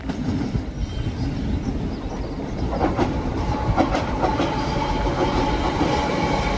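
A GB Rail Freight freight train rolls steadily past a station platform at Ardwick, a loud continuous rumble with rhythmic clickety-clack of wagon wheels on the rails throughout.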